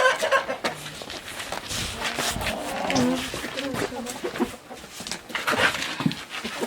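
Chickens cluck and squawk nearby in a coop in short bursts, with scattered rustling and a voice speaking at times.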